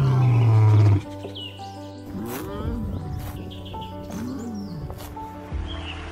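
Lion roaring in the African grassland: low, rumbling roars and grunts at moderate volume, with a heavy low sound at the start and bird calls chirping faintly in the background.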